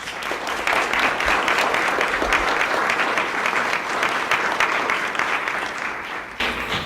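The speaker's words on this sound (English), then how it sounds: "These people deserve, even though they're just starting, a round of applause." Sustained applause from a large symposium audience, dense steady clapping that carries on for several seconds before tapering slightly at the end.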